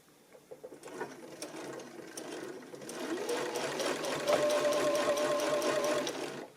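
A sewing machine stitches flanged binding onto the back of a quilt, its steady motor whir building after a few starts and running continuously at close range with no talk.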